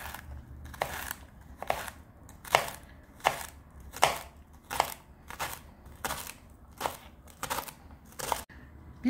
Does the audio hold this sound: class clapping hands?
no